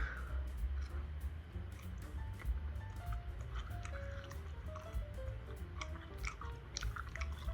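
Someone chews chewy vegan food close up, with soft wet squishing and mouth sounds over a steady low background hum.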